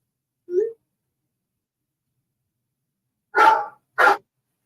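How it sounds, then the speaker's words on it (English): Small dog yips three times from a phone text alert, one short high bark, a pause, then a close pair of sharper barks against silence. "Little dog."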